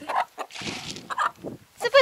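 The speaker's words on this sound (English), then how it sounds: "To feed the chickens" Chickens cluck in a Kazakh village farmyard at feeding time, short close-up bursts of clucking with a voice calling in between.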